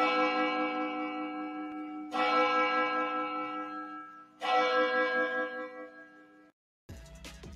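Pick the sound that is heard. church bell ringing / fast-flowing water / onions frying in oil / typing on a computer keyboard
church bell ringing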